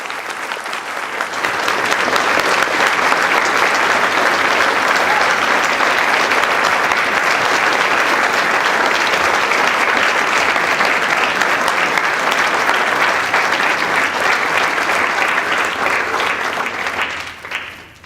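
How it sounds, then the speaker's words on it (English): Audience at a planetarium conference applauding at length, a loud, thick wall of clapping that builds quickly, holds steady for about fifteen seconds, then tapers off abruptly at the end. "now with all that applause"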